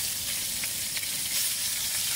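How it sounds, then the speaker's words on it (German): A Christmas roast sears in a hot pan, giving a steady, loud, crackling sizzle of frying meat close by, with no voices over it. "Zunächst erst einmal kross anbraten von beiden Seiten,"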